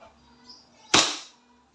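A WE 2011 Hi-Capa 7.0 Dragon airsoft pistol fires a single sharp, loud shot after a moment of quiet, with the crack trailing off quickly.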